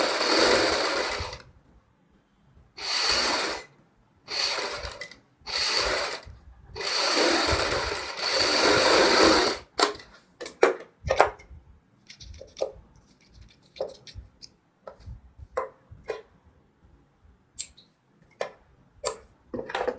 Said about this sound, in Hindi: ये जो एक्स्ट्रा मार्जिन है इसको हम इस तरीके से कटिंग कर लेंगे